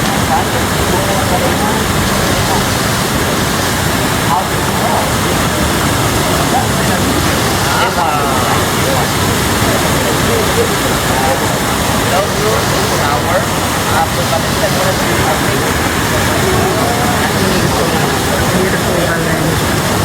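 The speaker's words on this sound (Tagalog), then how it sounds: "And this is the fountain here." Fountain water splashing steadily in Plaza de la Virgen, Valencia, on a rainy day, a dense continuous wash that stays loud and close throughout, with faint voices mixed into the background.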